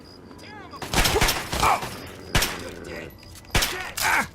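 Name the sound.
gunfire in Fallout 3 video game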